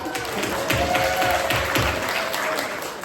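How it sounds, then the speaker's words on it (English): A live podcast audience in a bar gives a short burst of applause, close and fairly loud, with a few voices mixed into the clapping. "Big round of applause for yourself."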